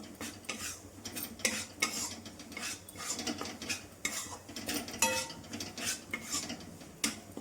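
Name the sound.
stirring and roasting madua (ragi) flour in a pan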